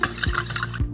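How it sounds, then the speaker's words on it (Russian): Quick clinking of ice and a spoon against glass while stirring Rooibos tea with Jameson whiskey, about a second, close and fairly loud with no talking. "Сейчас стиранем немножечко."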